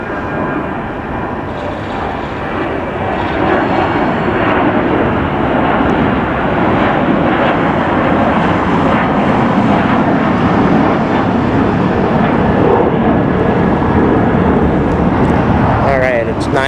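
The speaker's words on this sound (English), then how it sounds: "let's get this plane that's taken off." Airliner taking off at Los Angeles International Airport (LAX), a loud continuous engine roar that swells steadily, with a person talking over it.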